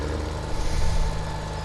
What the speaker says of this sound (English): I fully better start the tractor first